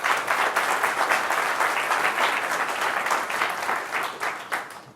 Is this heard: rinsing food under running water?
no